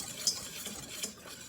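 Flour and salt whisked together in a bowl, a quiet brushing swish with a couple of faint metallic taps against the side.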